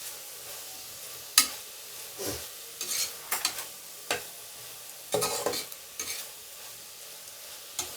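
Meal maker soy chunks with ginger garlic paste stirred gently in a pan, soft scraping strokes at an irregular pace over a faint sizzle, close and fairly quiet.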